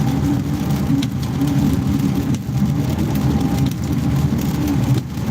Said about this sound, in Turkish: İnce ince yağmur yağıyor.